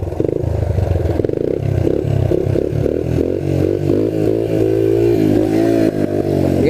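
A trail bike motorcycle engine revs while the rider pulls a wheelie, a loud, continuous throaty drone rising and falling in pitch with throttle changes, with some rattling clatter underneath and no speech.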